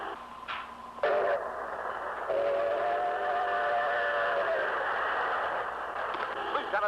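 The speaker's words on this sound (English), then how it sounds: "day and night great trains rush toward the Hudson River." Trains rush toward the Hudson River bound for Grand Central Station, with a steady rumble under a long sustained whistle and a few shorter whistle blasts.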